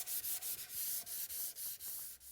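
Rhythmic back-and-forth sanding strokes on a wooden table part, about ten even passes with a harsh, hissy scratch, close up and fairly quiet.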